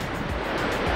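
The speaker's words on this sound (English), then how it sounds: "next to this crazy river" A fast, wild river near Split, Croatia, rushing with a loud, continuous broadband roar close by, mixed with some wind buffeting and no voices.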